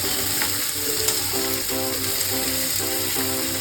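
Spices and onions sizzle steadily in hot oil in a pan for samosa filling, a loud continuous frying hiss with occasional stirring scrapes.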